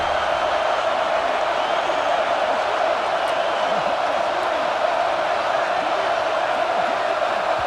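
Stadium crowd noise from the video game EA Sports College Football 26 roars as a steady, dense wash throughout, with faint shouts rising from the mass of voices.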